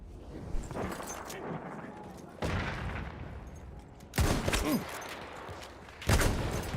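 Gunfire in the video game Battlefield, several sharp bursts of shots spaced a couple of seconds apart, mixed with someone talking through the gameplay.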